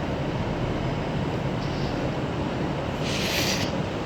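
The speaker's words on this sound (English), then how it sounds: "And over there is a freight train," A freight train rolling past in the distance, a low continuous rumble and rattle of wagons held at steady, moderate level with some wind buffeting the microphone.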